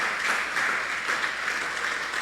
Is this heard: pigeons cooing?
no